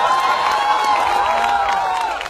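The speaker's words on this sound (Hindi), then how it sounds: "ये तालियां बता रही हैं कि बात पहुंच चुकी है आप तक" Audience clapping after lines are recited at an IT company event, a dense, continuous burst of applause that stays loud for a couple of seconds before starting to fade.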